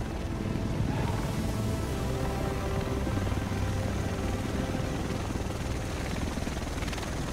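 A helicopter arrives over Manhattan in Tom Clancy's The Division, a loud continuous rotor roar and engine rumble filling the scene without talk.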